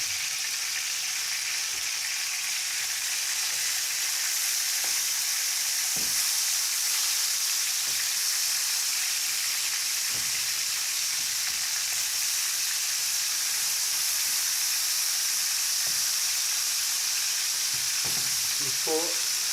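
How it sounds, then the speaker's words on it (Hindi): Fish frying in hot ghee makes a loud, steady hiss close up, with occasional small pops and crackles over the continuous sizzle. "ये मैंने सारी फिश डाल दी है अपनी, तो इसको मैं 2 से 3 मिनट इसको फ्राई करूँगा"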